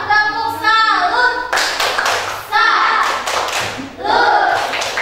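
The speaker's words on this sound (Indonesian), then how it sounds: "Beri tepuk tangan kelompok 2" Students in a classroom clap for group 2 in short rhythmic bursts of hand claps and taps, alternating with a teacher's sung or chanted prompts and children's voices between the rounds.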